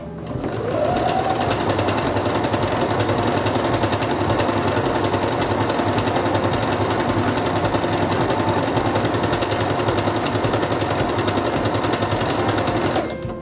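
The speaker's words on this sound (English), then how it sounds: "Put your fabric under the presser foot, lower it, and begin sewing." A Singer Quantum Stylist 9960 sewing machine stitches through fabric in a fast, even mechanical chatter that runs continuously and loud from start to finish before cutting off, with no talking.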